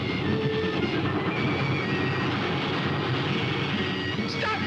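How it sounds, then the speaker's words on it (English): A train passes in a 1945 film, a steady, dense rumble of wheels and carriages with faint rattling clatter, continuous and close throughout, with a small squeal near the end. "The train."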